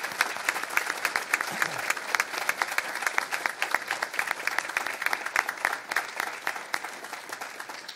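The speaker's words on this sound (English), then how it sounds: "Let's give these folks a round of applause." A crowd at a city gathering honoring retirees gives a sustained round of applause, a continuous, evenly dense clatter of many hands clapping at moderate loudness.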